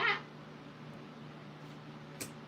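A single short cat meow right at the start, fairly close, followed by quiet room tone with a low steady hum in a home crafting space.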